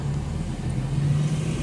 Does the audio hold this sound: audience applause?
no